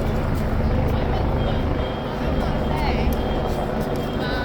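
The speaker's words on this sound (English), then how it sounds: "Helicopters in the sky above." Helicopters circle above Hyde Park Corner in London during Armistice Day protests and policing, with stalled traffic below. A heavy, continuous rotor rumble blends with the city road noise, loud and unbroken throughout.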